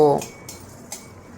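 Whole cloves, cardamom, cinnamon and six or seven peppercorns are stirred in a pan, giving three quiet, spaced metallic clinks of a utensil against the pan.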